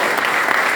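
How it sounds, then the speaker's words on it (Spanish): A brief burst of audience applause for a course coordinator at an event, a dense steady clatter of many hands heard for under a second. "así que yo le pido un fuerte aplauso"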